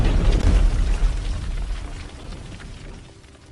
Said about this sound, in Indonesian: Ia pun cepat-cepat berlindung dari ledakan dinamit.